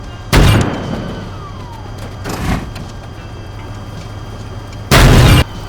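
Tank cannon shots in the video game Teardown, a Pershing firing at a reinforced Stuart tank: three loud booming blasts, the first and last sharp and strong, the middle one softer, over a steady low hum.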